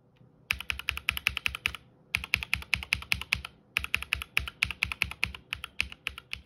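Three bursts of rhythmic typing on a mechanical keyboard with Durock POM linear switches, stock versus lubed, crisp even keystrokes separated by brief pauses, close and clear.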